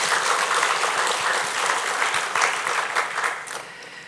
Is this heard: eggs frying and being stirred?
no